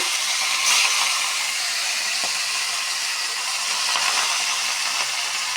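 Hilsa fish frying lightly in a pan, giving a constant, bright hissing sizzle with faint crackles, steady and close, with no speech.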